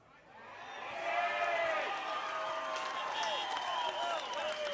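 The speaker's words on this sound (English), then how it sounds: "The reaction in the crowd will tell the story." Crowd at an Adelaide Footy League Australian football match between Rostrevor Old Collegians and Port District swells into a sustained roar of cheering, loud and continuous, with a whistle-like tone riding over the noise.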